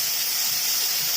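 Onion paste and green chillies sizzling in hot oil in a Bengali kitchen, a steady, even hiss of frying close by with no voices over it.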